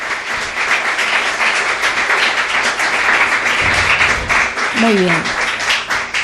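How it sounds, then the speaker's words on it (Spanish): A church congregation applauds to welcome first-time visitors, a loud, continuous roar of many hands clapping close by, with a voice speaking over it. "Un aplauso para ellos."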